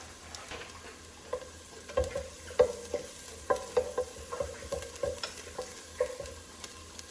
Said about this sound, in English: You just don't want the garlic to burn or brown too much.